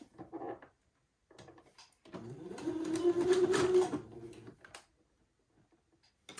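A sewing machine stitches a dress seam in one short burst of about two seconds, with a brief whir before it and light handling sounds around it, close and moderately loud.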